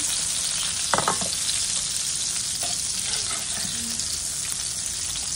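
Kingfish (surmai) fried Marathi style in oil in a pan gives a loud, steady, close sizzle throughout, with a brief clatter of utensils early on.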